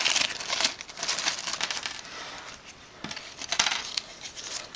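A plastic Ziploc bag holding toy robot accessories is handled up close, giving continuous crinkling with brief louder rustles and no voices.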